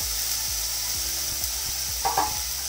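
Onion paste fries and is stirred in a pan, a steady broadband sizzle with a rhythmic series of low scraping strokes from the spatula, close and fairly loud with no talking.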